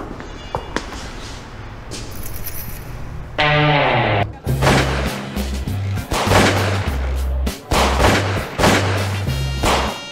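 Gunfire at a low-class shooting range: a run of loud, sharp shots in irregular bursts, some closely spaced, over a busy background with brief voices.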